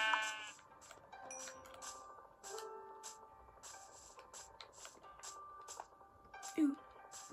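Sheep bleating in Minecraft, two short bleats near the end over background game music, one loud and close, the other cut short at the clip's close.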